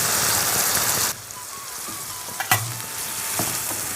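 Ginger-garlic paste sizzles loudly in hot oil, then drops to a softer, steady crackle broken by a few sharp clanks of a utensil against the pan.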